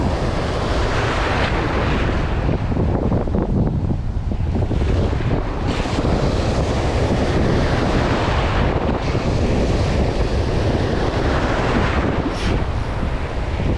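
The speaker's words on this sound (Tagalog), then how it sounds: "lumakas na yung hangin" Strong wind roars continuously across the microphone at the shore, with rain, surf and water noise churning beneath, loud and unbroken throughout.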